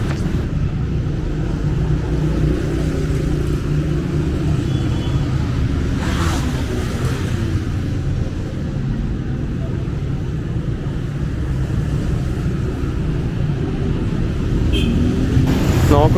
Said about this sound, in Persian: صدای موتوری زیاده دیگه، باید ببخشید الان